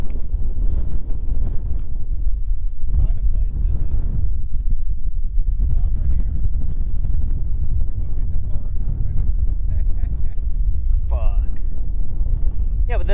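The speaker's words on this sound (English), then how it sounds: "we've been battling the wind all damn day, literally" Strong wind buffets a microphone out on the water, a constant heavy rumbling roar throughout, with a voice faintly audible underneath at moments.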